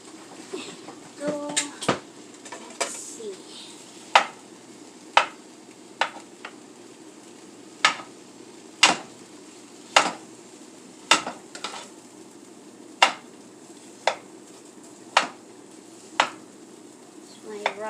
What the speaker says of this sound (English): I'm reheating my rice on the stove